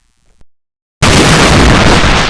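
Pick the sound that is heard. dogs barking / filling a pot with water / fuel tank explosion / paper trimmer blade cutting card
fuel tank explosion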